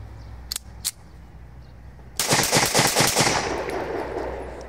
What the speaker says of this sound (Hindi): अब करते हैं दूसरे मैगजीन से टेस्ट फायर इंशाल्लाह